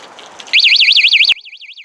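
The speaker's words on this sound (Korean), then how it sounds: "누군가가 제 자전거를 건드리거나 이동시키면 경보가 울리는 거예요." A bicycle anti-theft alarm, a shrill electronic warble rapidly rising and falling, loud and close, cutting off abruptly and then continuing more quietly.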